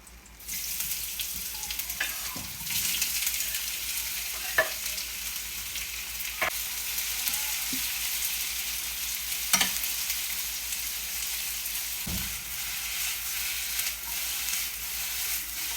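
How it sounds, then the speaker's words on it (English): Onions and garlic frying in a pan, a steady close sizzle with occasional stirring knocks and scrapes throughout, no voices. "Put in all of our onions."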